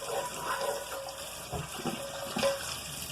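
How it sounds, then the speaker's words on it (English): Hot tap water runs steadily into a cast iron pan after cooking pizza, a close, even splashing stream with a few brief scraping bursts mixed in. "But you give it a good scraping with the hot water."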